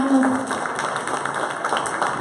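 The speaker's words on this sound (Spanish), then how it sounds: "Un aplauso, hermanos." A congregation claps through a church thanksgiving service in a dense, steady wash of applause. Voices can be heard within it.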